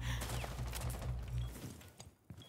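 Rapid bursts of gunfire crackle through a real-life Siege-style match, loud and dense for about a second and a half, then thinning to a few scattered shots.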